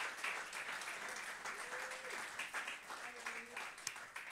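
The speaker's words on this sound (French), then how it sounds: "si vous voulez bien aussi qu'on applaudisse les techniciens" Church congregation applauding the technicians inside a church: steady, dense clapping from a crowd filling the whole stretch at moderate level, with a few faint voices mixed in.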